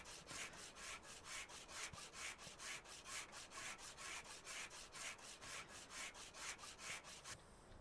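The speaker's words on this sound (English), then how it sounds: "let's just start sanding some of this bad boy down" Sanding a plastic front car bumper in the video game Car Dealer Simulator gives steady, rhythmic rasping strokes, about three a second, heard alone with no talk.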